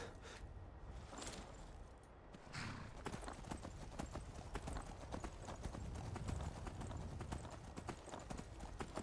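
Rapid clip-clop of horse hooves in Skyrim beats steadily on hard ground, close and continuous, with a faint whinny near the start.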